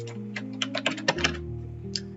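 A password is tapped out on a computer keyboard in a short burst of quick, close keystrokes, faint and alone, with a brief pause before a final key.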